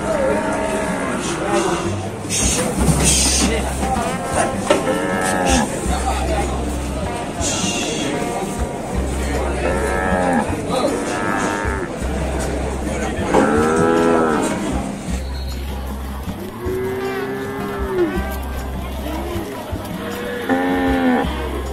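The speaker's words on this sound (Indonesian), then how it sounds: "Inilah proses penurunan sapi-sapi tersebut." Cattle moo loudly and repeatedly while being unloaded from a truck at a livestock market in Sibreh, long drawn-out calls from several animals amid hoof clatter, crowd murmur and occasional voices close by.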